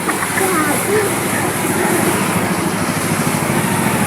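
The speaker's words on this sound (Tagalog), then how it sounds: "lakas ng alon doon sa gitna" Strong floodwater waves rushing through a flooded area in San Jose, Occidental Mindoro after a typhoon, a loud continuous turbulent wash filling the scene with steady noise throughout.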